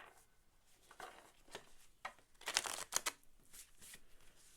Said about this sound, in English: Let's get a couple more good shuffles in.